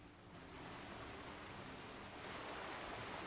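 Loud, steady rushing waterfall ambience from a StarCraft 2 map, a dense broadband roar holding evenly for the whole stretch and swelling slightly near the end, with no talk over it.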